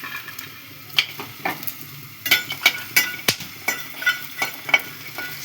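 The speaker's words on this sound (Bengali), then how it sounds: "তো বন্ধুরা ডালের বড়িটা সাথে সাথে ভাজা হয়ে যাচ্ছে" Sun-dried lentil dumplings (dal bori) fry in hot oil with ginger and bay leaf, a steady sizzle broken by a string of sharp clicks and scrapes as they are stirred, close and moderately loud, with no talking.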